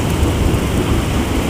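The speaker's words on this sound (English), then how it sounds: "we just had a lightning strike over that direction where you see them two lights" Thunder rolling during an electrical storm after a lightning strike, with heavy rain: a loud, continuous broadband rumble and hiss with no voices.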